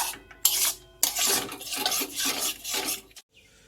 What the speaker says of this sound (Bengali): এবারে এটা ভালো করে আমি কষিয়ে নেবো যতক্ষণ না তেল ছেড়েছে